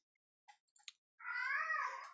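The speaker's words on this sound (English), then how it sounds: "My cat is throwing a fit" A house cat throwing a fit, first a few short clicks and chirps, then a long, loud, drawn-out meow wail close by, with no talk.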